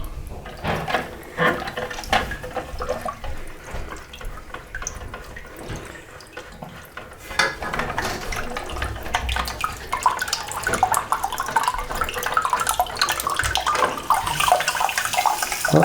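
Water trickling and hissing through a toilet cistern filling valve of SIAMP type during a washer replacement, a steady close splashing flow that grows busier and louder in the second half, with no talk.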